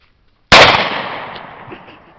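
A single loud gunshot aimed at a new shooting target bought at Walmart, with a sharp crack followed by a long decaying echo outdoors.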